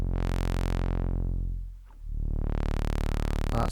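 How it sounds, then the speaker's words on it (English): A Korg MS-20 Mini synthesizer holds a buzzy tone while its low-pass filter sweeps closed into a dark, muffled dip and then opens bright again, loud and close. "That's the low pass filter,"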